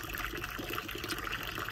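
A spring water fountain in St. James's Gardens, behind Liverpool's cathedral, gives a soft, steady trickle and splash that stays faint throughout, with no voices.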